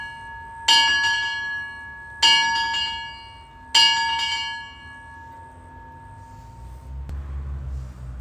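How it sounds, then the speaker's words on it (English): Three loud, ringing strikes of a bell at the Pioneer Museum of Florida, evenly spaced about 1.5 seconds apart, each with a long metallic decay, followed by a low rumbling noise near the end. "Ring the bell to know someone is coming."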